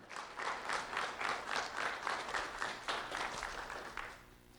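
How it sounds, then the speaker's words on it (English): Audience applause at a community awards event, a sustained burst of many hands clapping in a room, steady for several seconds before tapering off. "Round of applause for Braden Garcia."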